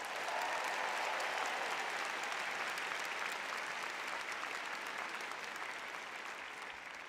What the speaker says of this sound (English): Another round of applause for Jackie Joyner-Kersee.